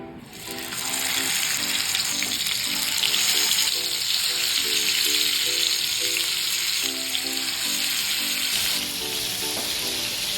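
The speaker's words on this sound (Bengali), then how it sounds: "এখন এই মেখে রাখা মাংসটাকে আমি ভেজে নেব" Marinated chicken pieces fry in hot oil in a wok, a continuous close sizzle and crackle with rhythmic stirring scrapes, steady for about ten seconds before easing slightly.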